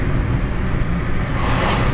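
A bus passes on a quiet street beside a church, its engine and tyre rumble loud and close, a steady low roar through the short moment.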